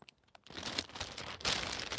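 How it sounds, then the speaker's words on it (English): A waterproof plastic bag crinkles and rustles close up for nearly two seconds after a brief quiet start, with a brighter burst of crumpling near the end. "So, you see it's a plastic bag."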